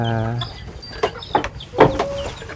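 A farmyard chicken clucks in short, close bursts, with a few separate calls spaced over a couple of seconds and no talking.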